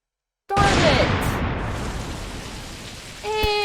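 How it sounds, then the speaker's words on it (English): Steady rain pours down in a cartoon reaction setting, a dense continuous hiss that starts abruptly and holds loud throughout, with a brief chime-like tone near the end. "And it's raining."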